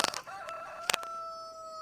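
Rooster and chickens in the mobile farming game Farming Simulator 23: a drawn-out rooster crow rises and holds, mixed with short clucks and clicks, quiet and close, with no talk.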